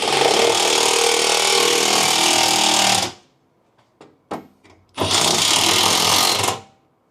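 A power tool whirs loudly while nipping up bolts on an aluminium underbody skid plate for a Tesla Model 3 or Model Y, two sustained bursts separated by a few short clicks and ratchety taps.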